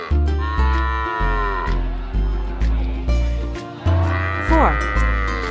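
Several cows moo one after another in a regular rhythm, close and loud, over a backing of music-like tones.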